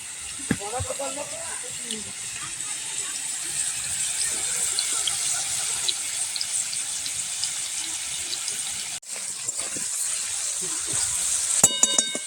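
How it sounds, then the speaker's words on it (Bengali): Potato pieces frying in oil in a pan for aloo posto give a steady close sizzle and hiss, with a few light clinks and stirring knocks. "আলু শাক দিয়ে আলু পোস্ত করার জন্য আমি আলুটা আগে ভেজে নিচ্ছি"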